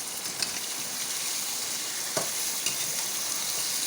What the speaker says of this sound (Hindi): चिकन को हमने इतनी देर तक फ्राई करना है कि इससे एक अच्छा सा कलर आ जाए